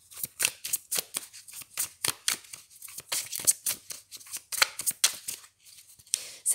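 Tarot cards shuffled and drawn by hand, a quick series of crisp, close riffling and snapping card sounds in irregular bursts with short pauses, no talking.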